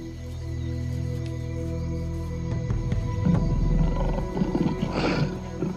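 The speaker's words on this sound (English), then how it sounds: "the lion appears to have no interest in hunting, impala or dog" A lion roars in the African bush where wild dogs hunt, a deep, loud, sustained rumbling growl building and swelling over several seconds, with no voices.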